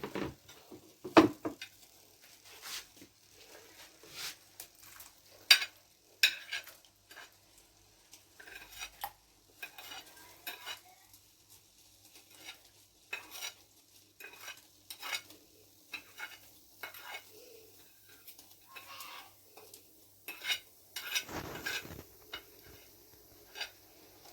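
Garlic, salt, dried vegetables and pepper are stirred into chicken corn soup in a pot, with soft scraping and clinking strokes repeating quietly throughout and a faint sizzle underneath.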